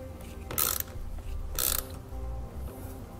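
Ratchet wrench with a 7/16 socket turning on a vehicle battery post, two quick bursts of sharp clicking a second apart over a low background hum.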